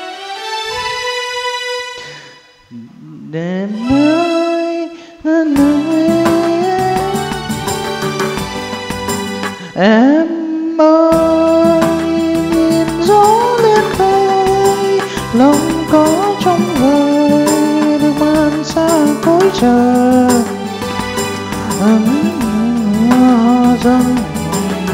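String voice on a Kurtzman SV800 electronic organ playing a chorus part, full sustained ensemble chords with bass and rhythm accompaniment, loud and continuous after a short gliding intro.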